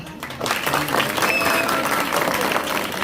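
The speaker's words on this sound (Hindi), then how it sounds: "इनके लिए जोरदार तालियां" A crowd in Bhiwandi breaks into hearty applause after a brief quiet moment, the clapping swelling quickly and holding strong and close, with some voices mixed in beneath it.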